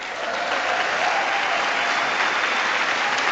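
A large chamber audience at the State of the Union address applauds. The sound is a dense, even wash of many hands clapping that holds steady at moderate volume for the whole stretch.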